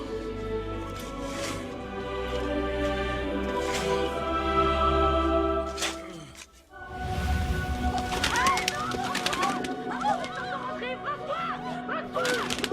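A bird in the video game 11-11 Memories Retold twitters in short repeated chirps during the second half, after a thud and splashing sounds and over a soft musical background.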